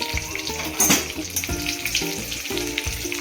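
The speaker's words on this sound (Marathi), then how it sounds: "आता आपण टाकूया कढीपत्ता आणि कढीपत्ता सुद्धा चांगला तळून घेऊ" Curry leaves and green chillies fry in oil for bhadang chivda, a bubbling sizzle with a brief louder splutter, running beneath prominent background music.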